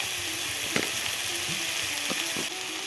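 Green banana and potato pieces frying in a pan for a village-style dish, a steady close sizzle with occasional scraping stirs and small metallic clicks.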